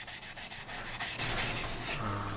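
Sandpaper rubbing back and forth over lacquered wood in traditional lacquerware work, a continuous close, loud rasping scrape with rhythmic strokes and no talking.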